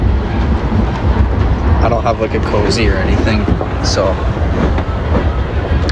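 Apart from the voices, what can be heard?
GO train ride interior noise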